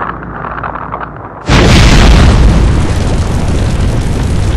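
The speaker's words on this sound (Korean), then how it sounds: "EBS 다큐 프라임에서 제작한 바로 백두산의 폭발을 미리 3D로 만들어" A simulated volcanic eruption of Mount Baekdu in a documentary 3D animation: a low rumble suddenly erupts into a massive, very loud blast that turns into a sustained roaring wall of noise.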